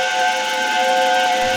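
Gordon's steam engine whistle, a loud, sustained, shrill tone over hissing steam that holds steady for its whole length.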